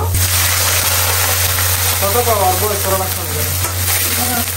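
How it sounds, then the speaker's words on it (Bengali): Bitter gourd (karela) frying in a pan, a loud constant sizzle and hiss with a low steady hum underneath, partly covered by someone speaking. "এখানে হলো করলা ভাজি করতেছি"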